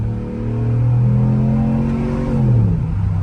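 A Ram TRX pickup truck accelerating, its engine rising in pitch with a steady supercharger-style whine over a deep rumble, loud and close from inside the cab, with no talking.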